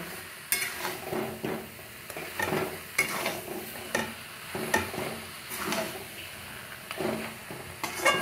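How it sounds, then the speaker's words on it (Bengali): Jujube pickle cooking in jaggery without water is stirred steadily in a pan, producing repeated scraping strokes and a soft bubbling sizzle close by, with no voices. "এই অনবরত নাড়তে হবে, গুড়েই কুলটা সেদ্ধ হয়ে যাবে।"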